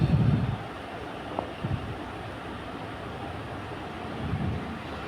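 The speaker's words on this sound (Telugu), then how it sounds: "గాలి చూసారు ఎంత వేస్తుంది." Strong wind gusting over a hilltop temple, a low rumbling buffet against the microphone with heavier bursts at the start and end.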